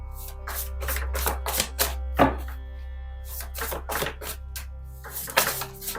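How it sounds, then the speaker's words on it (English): Tarot cards handled and pulled from a deck: a rapid series of crisp, close taps and snaps, irregular but steady, over a faint low hum, with no one talking. "Let's pull some focus cards here to clarify."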